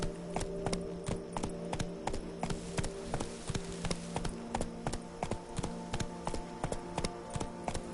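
Hooves of the horse Roach clip-clop in a quick, regular galloping rhythm in The Witcher game, each strike sharp and close over a low steady background hum.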